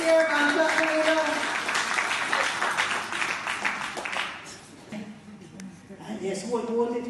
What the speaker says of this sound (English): Clap my own winner for this year and clap the winner.